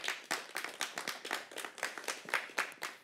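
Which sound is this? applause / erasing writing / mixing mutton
applause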